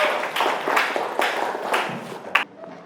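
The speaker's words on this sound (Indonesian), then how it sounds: "Tepuk tangan untuk kalian" Students clap together in a classroom, a loose, uneven run of bursts of hand claps that fades out near the end after one sharp clap.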